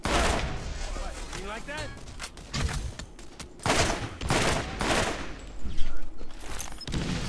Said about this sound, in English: Shooting rockets at us now.